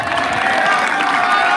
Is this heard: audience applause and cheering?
yes